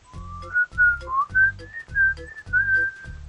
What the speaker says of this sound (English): I'm just like whistling over here.